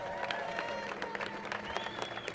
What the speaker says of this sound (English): which deserves another round of applause